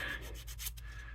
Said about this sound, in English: So I like to roll it up like so to create a little sanding tool.